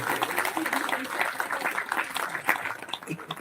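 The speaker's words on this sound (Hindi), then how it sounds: "तालियां बजती रहनी चाहिए।" Audience applause fills a hall at a talk on Sanatan culture and Hindutva, a steady, dense clatter of clapping that runs the whole way with a voice speaking over it.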